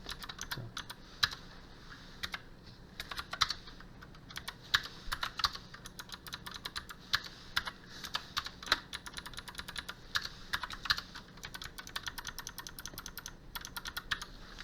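Computer keyboard typing with rapid, uneven key clicks, including Ctrl+C and Ctrl+V copy-paste shortcuts, steady and close throughout at moderate level with no talking.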